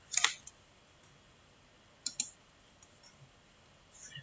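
Sharp computer mouse clicks during a Brawl Stars Akinator quiz game, a quick pair near the start and another pair about two seconds later, close and crisp against a quiet room.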